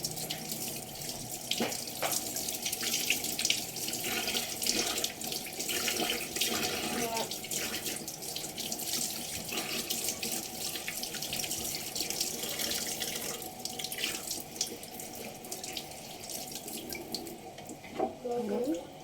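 Tap water runs steadily into a kitchen sink while dishes are washed with a sponge cloth, a continuous loud splashing stream with occasional clinks, alone without talk.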